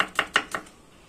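Knife chopping onion on a cutting board, four quick crisp chops in an even rhythm, close and clear, then fading to quiet.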